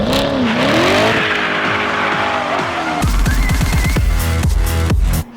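A Chevrolet Corvette C7 Stingray on the road, its engine revving loudly and climbing through the gears with sharp rising pitch sweeps, then quick upshifts in a rapid burst before cutting off abruptly at the end.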